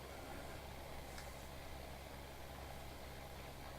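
A tractor pulling a seeder in Farming Simulator, planting potatoes, gives a steady low engine drone at idle-like revs, fairly faint and unbroken throughout.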